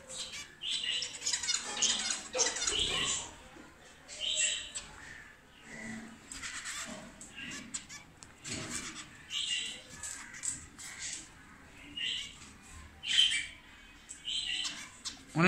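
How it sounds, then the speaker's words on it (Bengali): Zebra finches call in a cage alongside Australian ring-necked doves, a scatter of short, nasal chirps and squeaky bursts repeating irregularly, close by against a quiet background. "জেব্রা ফিন্স পাখি ডাকতেছে কীভাবে"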